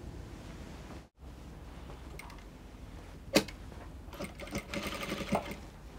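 Steady, close whirring of a sewing machine stitching the lining of a kimono dress, running almost without pause apart from one short gap, with a few sharp clicks and a busier, louder stretch toward the end.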